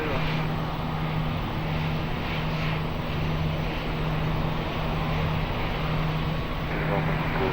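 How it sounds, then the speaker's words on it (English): An Airbus A320 rolls for takeoff at Lisbon Airport, its engines a steady, distant roar with a low droning hum that holds unchanged throughout. "Airbus 320, rolling for departure."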